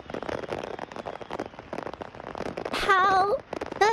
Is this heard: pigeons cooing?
no